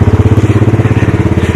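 A 1985 Honda ATC250SX three-wheeler engine runs loud and close after a year in storage, a steady rapid thumping pulse at an even idle-like pace.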